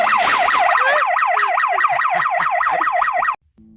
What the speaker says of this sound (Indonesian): hingga alarm pun berbunyi